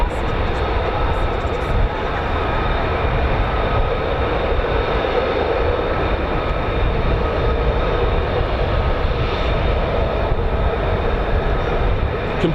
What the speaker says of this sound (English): This is a huge turbofan